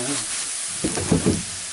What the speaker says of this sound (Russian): О, какая картошечка поджаренная.